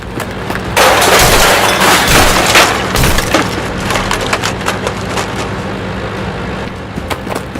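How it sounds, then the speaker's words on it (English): A grenade goes off in a war video game, a loud close burst of crackling, debris-like noise that rises sharply, then settles into scattered rattling impacts and rumbling battle noise with no voices. "Grenade!"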